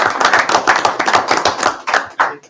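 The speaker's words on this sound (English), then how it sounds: "Big round of applause for you." A small group at a city commission meeting applauds employees being recognized for their service, loud, close claps that thin out and stop near the end.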